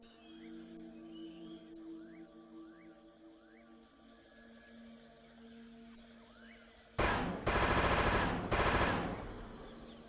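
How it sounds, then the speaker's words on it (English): Gunfire from a player's gun in Arma 3, two loud rapid bursts of automatic fire late in the clip after quieter ambient game sounds with faint chirping calls. "I'm gonna get one of these guys, shoot off the gun. It's not that loud."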